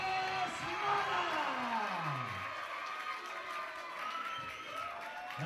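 Crowd at an ICE FC fight event applauding and cheering steadily throughout, a broad wash of claps and voices with a sliding tone passing early on.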